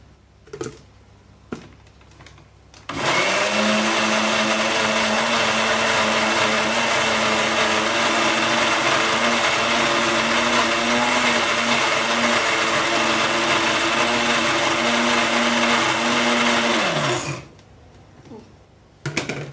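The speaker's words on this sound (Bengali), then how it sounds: "এবার আমি আর একটু তেল দিয়ে ব্লেন্ড করে তুলে নেব" A blender whirs mayonnaise with extra oil added, a loud, steady motor drone of about fourteen seconds that starts and stops abruptly, with a few faint knocks before and after.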